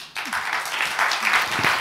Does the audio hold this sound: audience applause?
yes